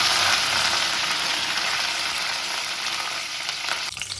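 Kasuri methi and mint leaves frying in a dhaba-style chicken gravy make a loud, dense sizzle close by that eases slightly toward the end, with a brief clatter near the finish.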